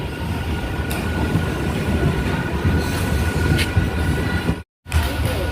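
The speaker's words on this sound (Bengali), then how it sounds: "দেখো পুরো ফাঁকা ট্রেন।" An empty local train runs with a loud, steady rumble and rattle of wheels and carriages heard from inside. The roar stays constant, with a few faint squeals and one brief cut to silence near the end.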